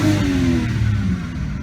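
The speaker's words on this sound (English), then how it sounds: "Let me give the car a little rev so you can hear what it's like with the exhaust cutout open." A used BMW car engine revving loudly with the exhaust cutout open, a deep throaty roar rising and then settling, close by.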